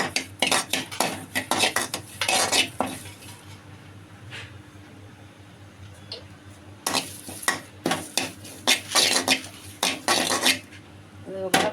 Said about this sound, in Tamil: எல்லாமே வெறும் கடாயில் தாங்க வறுக்கணும்